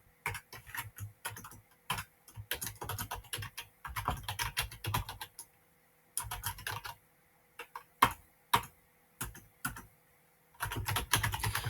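Code is typed on a computer keyboard in quick runs of close keystrokes, broken by short silent pauses, with no voices.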